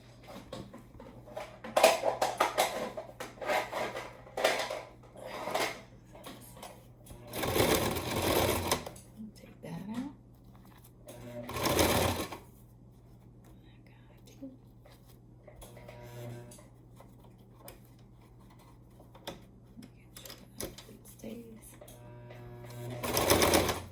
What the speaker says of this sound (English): I'm sewing toward the direction of the pleats down